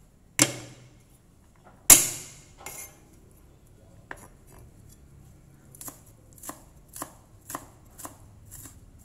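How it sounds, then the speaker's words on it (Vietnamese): A knife strikes a cutting board while shallots and garlic are minced. Two sharp knocks are followed by a string of lighter, evenly spaced taps against a quiet background, with no talking. "Để cho thơm thì không thể thiếu là phần hành thơm và phần tỏi, các bạn sẽ băm ra cho mình."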